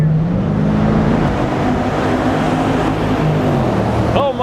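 A loud, steady engine rumble with a deep harmonic drone from the Hemi V8 of a 475 hp Dodge Durango SRT, idling and revving, heard continuously with a brief chirp near the end.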